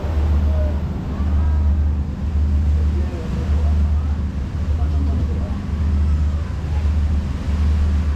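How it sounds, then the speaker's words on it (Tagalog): Strong wind roars steadily against the microphone aboard a fast ferry crossing to Matnog, with a deep, constant rumble, a loud buffeting that doesn't let up. "Malakas ang hangin."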